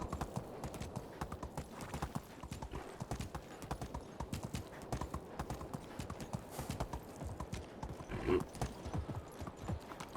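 Horse hooves clip-clop steadily and continuously in Medieval Dynasty, a medieval survival game, with a brief whinny near the end, at moderate volume under faint background ambience.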